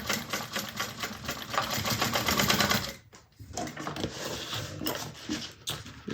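Sewing machine stitching around the window of a handmade bag with a short stitch length, a steady fast rapid-fire run that pauses briefly near the middle and then resumes, loud and close.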